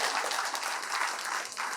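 An audience claps at a stage event where people are being invited up, a brief, dense patter of applause at moderate volume.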